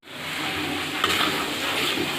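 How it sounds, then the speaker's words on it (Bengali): Green chilies frying with grated coconut in a pan, a steady close sizzle with soft stirring scrapes throughout, no voices. "কাঁচামরিচ ভাজা"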